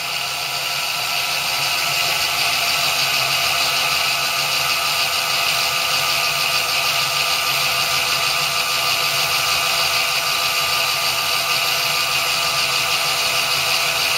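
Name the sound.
electric motor running at about 5,021 RPM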